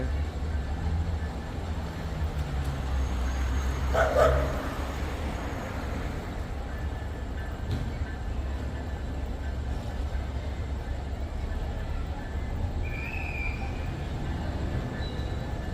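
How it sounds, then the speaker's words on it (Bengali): A big passenger train eases slowly toward a station in Dhaka, Bangladesh, giving a steady low rumble and wagon noise at middle distance, with a brief louder clank partway through. "অনেক বড় ট্রেন"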